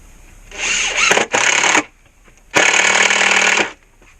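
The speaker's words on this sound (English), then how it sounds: "Just use a couple of screws just to hold" A power drill drives screws into a post of a pine sleeper retaining wall, giving two loud, close whirring bursts with a short gap inside the first, then a pause before a longer second burst.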